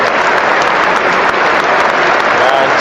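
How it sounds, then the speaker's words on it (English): A football stadium crowd gives a standing ovation to a substituted player, with dense, sustained clapping at a steady roar throughout. "And standing ovation for Botman, a real crowd favourite."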